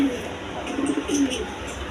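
Pigeons softly cooing in a loft or coop, low murmuring calls repeating under steady background noise.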